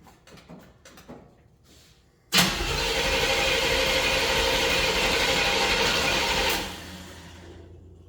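A push-button start fires up a car engine at a speed shop, which catches abruptly and then holds a loud, steady, rough idle for about four seconds before the revs drop away. Some quieter clicking and mechanical fiddling comes first.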